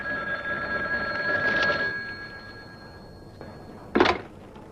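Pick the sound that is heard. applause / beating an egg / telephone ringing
telephone ringing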